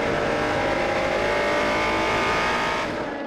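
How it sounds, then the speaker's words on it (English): Onboard engine of the number 8 LMP prototype racing at Portimão in the European Le Mans Series, a loud, steady, near engine roar with sustained harmonic whine that holds high before easing slightly at the end. "We're on board with the number 8 machine."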